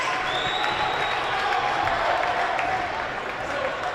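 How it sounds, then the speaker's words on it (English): Spectators at a high school boys varsity basketball senior night applaud and cheer in a gym, a steady broad roar with a whistle tone threading through it. "You can hear the crowd."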